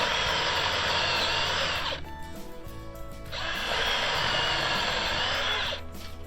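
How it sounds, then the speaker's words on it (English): A power drill whines loudly in two bursts, close by, boring one-inch-deep holes into the top of a log, each burst lasting a couple of seconds with a brief pause between. "every 6 inches I'm going to drill a hole down the top of this log"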